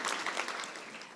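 Applause from an audience at a community ideas event, a broad, steady wash of clapping held at an even level for a brief stretch, with no voices over it.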